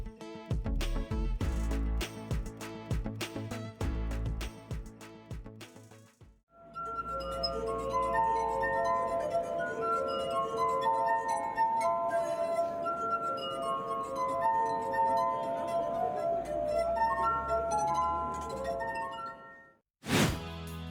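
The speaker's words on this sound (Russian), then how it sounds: "Музыкант пишет и исполняет собственные композиции на стеклянной арфе уже более 20 лет" A street musician plays his own compositions on a glass harp, sustained ringing glass tones forming a melody after a brief section of sharp percussive chimes, loud and clear with no talking.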